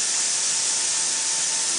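Spray machine spraying thick, lightweight hot pipe coating, a steady, loud, continuous high hiss of pressurized spray with no break and no voices.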